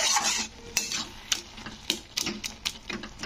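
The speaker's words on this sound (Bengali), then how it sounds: "আর এটাকে একটু খুন্তি দিয়ে এরকম ঘেঁটে" Boiled vegetables for chikni shak chorchori being mashed and stirred with a metal spatula: rapid, uneven clicking and scraping knocks of metal on the pan, close and fairly crisp, without talk.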